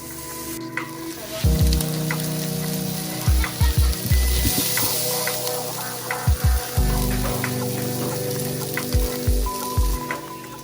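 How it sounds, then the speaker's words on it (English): Half an onion and about 400 grams of leftover beef shin sizzle loudly in a hot pan, the steady frying hiss broken by repeated bursts of scraping and stirring. "we just want to stir fry half an onion with a long 400 grams of beef shin"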